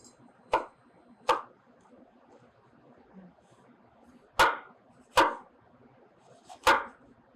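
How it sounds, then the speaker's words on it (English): A knife chops bell pepper on a cutting board in a kitchen, giving five sharp, separate thuds with irregular gaps and quiet room noise between them, with no speech. "so we're chopping our bell pepper here"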